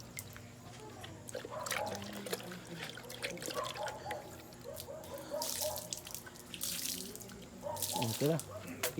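Water runs and trickles from a tap into a sink in a home cooking setting, with drips and splashes close by while people speak intermittently over it.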